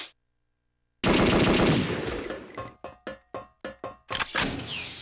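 Perfect Dark gunfire opens with a sudden loud burst, then a quick series of about six sharp, evenly spaced shots and a final heavy blast, all close and dominant with no talking.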